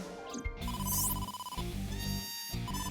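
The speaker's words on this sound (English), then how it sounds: "Ring, ring, ring, ring, ring, ring. Phone call, phone call." A telephone rings in the video game AI: The Somnium Files, a steady electronic ringtone playing continuously under game music with a brief chime sweep near the start.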